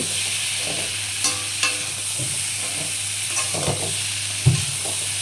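Papaya curry is sautéed in a pan, with a constant sizzling hiss, intermittent spatula knocks and scrapes, and a sharper stir near the end.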